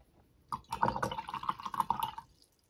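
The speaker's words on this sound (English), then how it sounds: "when I lift my brush, it kind of just drops a little bit of extra water in there" Water drips from a lifted watercolor paint brush into a water container, a quick run of small, close, bright plinks and patters over a couple of seconds, then quiet.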